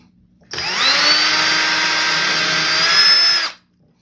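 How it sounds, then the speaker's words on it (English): Power drill boring holes into small air-dry clay hearts for a craft project: a steady, close electric whine that runs about three seconds without a break, with no talk over it. "then I'm just going to drill some holes"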